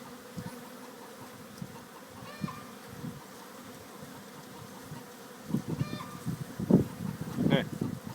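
Honey bees buzzing during a hive installation, a steady low insect drone with louder, closer bursts of buzzing toward the end, along with occasional thumps and faint background voices.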